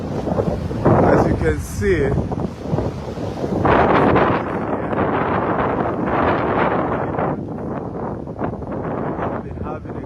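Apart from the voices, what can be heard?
strong wind on the coast of Mauritius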